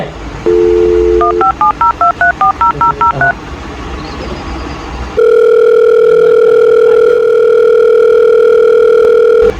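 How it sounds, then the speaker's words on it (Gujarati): A telephone is dialed with a quick run of touch-tone beeps, about a dozen short tones in rhythm, followed by a steady, loud, continuous line tone. "લાય હવે મારે ભોળાને ફોન કરવા દે."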